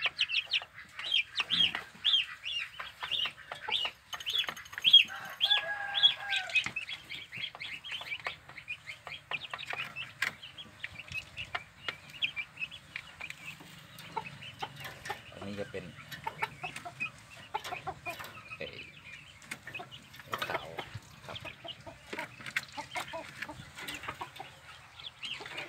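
Giant Brahma chickens and egg-laying hens cluck and chatter throughout, a busy mix of repeated clucks and a few squawks close by in a rural farmyard, with someone speaking intermittently over them.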